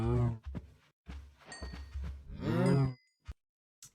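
Cows lowing in a Minecraft pen in the All The Mods 9 modpack: two long, close, drawn-out moos with smaller grunting calls between them, then a few faint short clicks, no talking.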